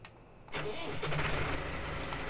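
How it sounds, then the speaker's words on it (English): A Massey Ferguson 300 Series tractor engine in a video game mod cranks and catches after a brief low hum, then settles into a steady, loud mid-pitched running drone. "Notice the different engine sounds as we start working through the tractors"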